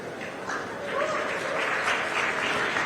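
Audience applause at a youth conference swells into steady, dense clapping across the whole stretch, loud and close, with some crowd noise mixed in.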